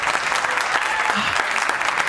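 Applause for entrepreneurs at a beach pitch event: a brief stretch of continuous crowd clapping, fairly loud and even throughout.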